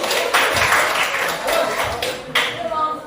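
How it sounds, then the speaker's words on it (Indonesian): A classroom audience claps for a student group after its chemistry presentation, a few seconds of dense, close applause with bursts of louder claps and no talk over it. "Tepuk tangan dulu kelompok 1"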